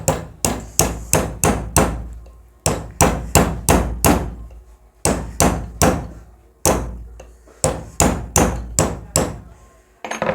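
A hammer strikes repeatedly while fitting magnets into an electric motor, sharp loud metallic blows in quick bursts of four to six with short pauses between groups, close up and with no talking.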